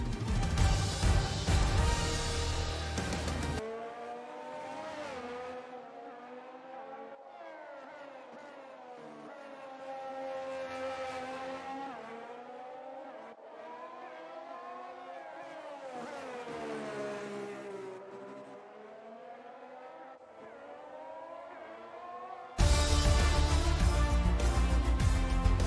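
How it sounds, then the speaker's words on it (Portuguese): Formula 1 race cars in the F1 22 game run at the Hungarian circuit. A long, continuous engine whine rises and falls in pitch through gear changes and passes, framed by short, louder bursts at the start and end. "agora que todos os carros cruzaram a linha de chegada"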